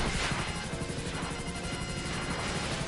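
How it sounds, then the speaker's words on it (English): An Apache attack helicopter in the video game GTA 5 drones with a dense, steady rotor and engine roar that holds unbroken throughout. "if you didn't know what the Apache attack helicopter was, this is what it is"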